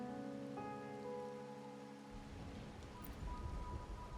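Steady rain falls in a video game story scene, a soft broadband patter that swells and grows denser partway through, heard alone under a faint musical tone.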